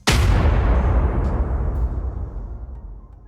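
Controlled explosion of a derailed chemical train in Ohio: a single sudden loud blast followed by a deep rumbling roar that slowly fades over a few seconds, with no voices.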